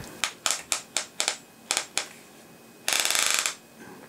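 A tactical ratchet belt buckle clicks as it is pushed tighter, seven crisp separate clicks spaced out, then a fast rattling burst of ratchet teeth, all close and loud with no talking.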